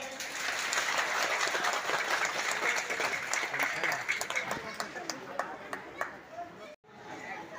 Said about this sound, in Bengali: জোরে করতালি দাও সবাই মিলে।